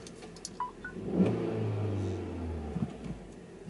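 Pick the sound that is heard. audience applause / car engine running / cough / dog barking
car engine running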